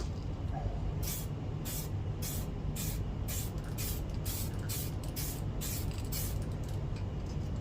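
DuraCoat aerosol firearm finish sprayed onto a 1911 pistol in repeated short hissing bursts, about a dozen spaced passes over a low steady background hum.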